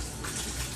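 Water from a tap runs over a turkey leg in a quick wash, a short steady gushing splash close by.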